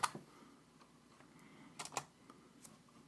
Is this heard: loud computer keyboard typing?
yes